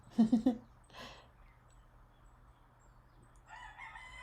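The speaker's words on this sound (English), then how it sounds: "you guys can hear all my birds, including the chickens" A rooster crows in a quick burst of loud calls, then fainter clucking and a distant crow from chickens in a quiet setting.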